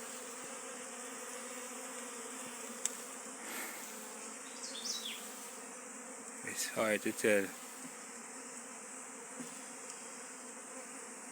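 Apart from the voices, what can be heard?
swarm of bees during a hive removal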